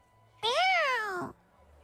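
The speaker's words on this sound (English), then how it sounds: "Let's follow that cat." A cat meows once in the video game Duet Night Abyss: a single drawn-out, rising-then-falling call of about a second, clear and close against a quiet background.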